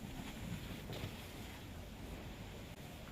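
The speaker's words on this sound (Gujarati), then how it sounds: "દ્વારકામાં અસહ્ય ગરમી વચ્ચે દ્વારકાનો દરિયો ગાંડોતુર બન્યો છે, જેથી ભારે કરંટ દેખાઈ રહ્યો છે" Rough, surging sea at Dwarka in Gujarat, a steady broad roar of breaking waves mixed with wind rumble, continuous and fairly distant, with no voices.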